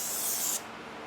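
Rust-Oleum Custom 5 in 1 spray paint on its low output nozzle setting gives a steady, close hiss for about half a second, then cuts off abruptly into quiet room tone.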